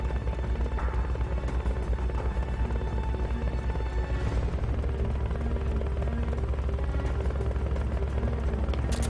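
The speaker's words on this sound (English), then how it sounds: "I didn't even bring anything that was capable of destroying the helicopter" Helicopter in Metal Gear Solid: Peace Walker, a steady, loud rotor throb and engine hum that runs continuously, with a faint burst of noise partway through.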